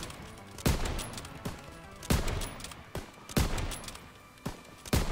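Sniper rifle shots during a shooting challenge in a video game: four sharp, loud single reports spaced roughly a second and a half apart, each with a short decaying tail over a busy game background.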